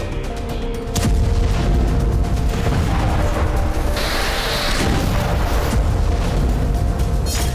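A loud barrage of booming blasts and rumbling explosions as Hamas fires more than a dozen rockets from Rafah toward Israel, a sustained roar with sharp onsets and a hissing whoosh partway through, with no talk.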